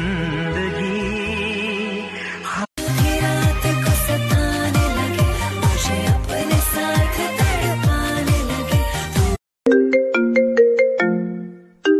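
A mobile phone rings loudly with a melodic ringtone for an incoming call, a bright looping tune with a brief break and a final chiming phrase, alone without talk.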